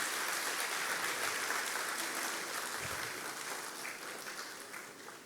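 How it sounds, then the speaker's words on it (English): Audience at an awards ceremony in Bayelsa applauding a former Nigerian president, a steady wash of clapping at moderate distance that slowly tapers off. "Please, can we give him a round of applause"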